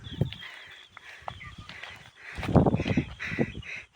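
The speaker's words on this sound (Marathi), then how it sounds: "पक्ष्यांचा किलबिलाट सर्वीकडे चालू आहे" Several birds call and chatter nearby in village trees, including harsh crow-like caws, with rustling and a few low background sounds mixed in.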